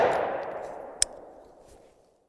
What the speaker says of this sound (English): Let's continue shooting.